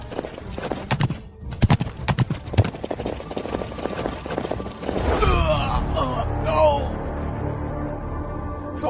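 Horse hooves clip-clopping in a fast, close, uneven run, then giving way to a neigh and other vocal sounds with swelling background noise.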